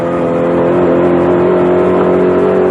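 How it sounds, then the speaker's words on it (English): A 1986 race car engine revs loudly on the track, a strong steady droning note held close throughout with no talk. "Car sounds beautiful."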